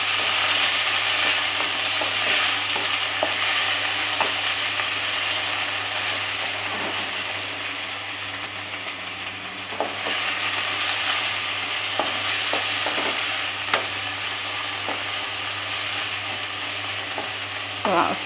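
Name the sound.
tomatoes frying and stirred in a pan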